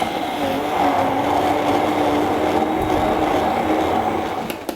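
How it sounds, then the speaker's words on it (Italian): A loud, steady motorized whir with a grinding, churning texture runs continuously close by, an immersion blender working through thick soup. "con un frullatore a immersione formiamo la crema"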